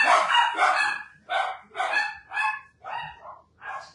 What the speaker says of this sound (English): Oh, these dogs are just relentless.